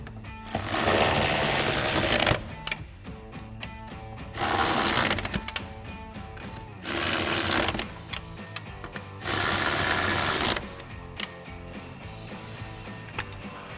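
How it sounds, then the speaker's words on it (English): A ratchet with a 13mm socket and extension tightens flange nuts on a towing mirror of a 2020-2024 Silverado or Sierra 2500. It gives four close bursts of rapid clicking separated by short pauses, with mechanical clatter between them. "we'll go ahead and tighten those down again with our 13mm socket and extension on our ratchet"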